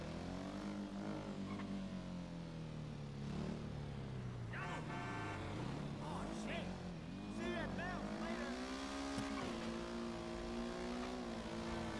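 Motorbike engine in GTA 5 on a test drive of the Esskey bike, a steady droning tone that rises and falls as the rider accelerates and brakes, loud and continuous, with someone talking over it.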